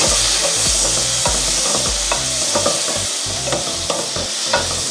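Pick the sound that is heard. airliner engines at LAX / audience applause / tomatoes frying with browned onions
tomatoes frying with browned onions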